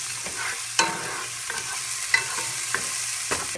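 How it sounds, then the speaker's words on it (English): Ginisang upo with shrimp being sautéed in a pan: a steady close sizzle of frying with several sharp scrapes and clinks of a utensil stirring against the pan, no voices. "So go ahead and saute that for about 2 to 3 minutes"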